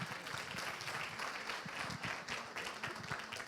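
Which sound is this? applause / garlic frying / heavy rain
applause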